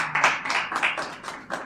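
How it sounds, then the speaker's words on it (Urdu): Audience at a poetry seminar and mushaira claps in short, uneven bursts, a handful of close, moderately loud rounds of applause heard alone. "یہ تالیاں بھی ایک قسم کے جوش کی علامت ہیں، محبت کی علامت ہیں"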